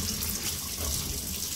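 Hands being washed of ink under a running tap in a stainless steel sink: a steady, close, continuous rush of water splashing into the basin, with no other sounds.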